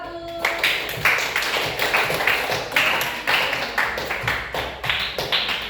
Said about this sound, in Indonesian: kita beri tepuk tangan untuk kelompok 2 dan kelompok 1